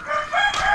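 A rooster crows among the chickens in a farmyard, one short, close crow with a harmonic, rising-then-sustained call lasting under a second.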